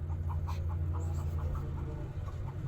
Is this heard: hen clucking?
yes